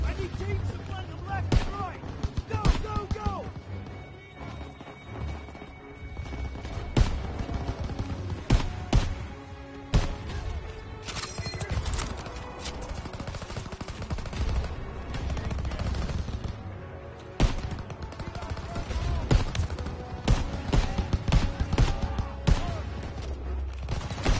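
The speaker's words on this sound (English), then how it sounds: "That's flak fire in the distance." Flak fire in Call of Duty: WW2 pops in rapid, irregular bursts of distant anti-aircraft gunfire. The shots mix with closer battle noise and a voice talking over them throughout.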